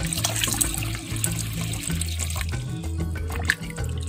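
Cooked sago pearls being rinsed under running water, a steady close splashing and gurgling flow with one brief louder splash near the end.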